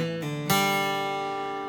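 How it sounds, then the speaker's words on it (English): A short plucked bluegrass ending lick in G: a couple of quick notes, then a final ringing note that sustains and slowly decays, close and clear. "nice ending for a bluegrass tune in G"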